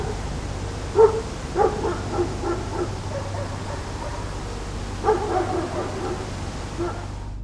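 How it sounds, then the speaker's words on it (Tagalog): Pet dogs outside give a few short yips and barks, moderately distant, with quiet gaps between bursts over a steady low background hum. "Kasabay ng nakakatakot na tunog na aking narinig ay ang pag-alulong ng mga alagang aso"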